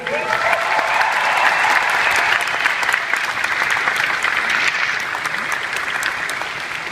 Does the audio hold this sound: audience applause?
yes